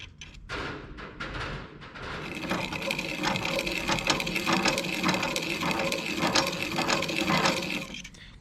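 Piston rings for a Renault 5 GTT engine being filed at the ends, a steady rapid rasping scrape running continuously for several seconds at close range, with no talk.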